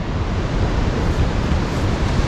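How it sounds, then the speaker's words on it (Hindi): The Bhaba river rushes below a glacier at about 10,700 feet in Himachal Pradesh, a loud, dense, continuous roar of flowing water with no pauses. "नीचे ही नदी बह रही है भाभा रिवर"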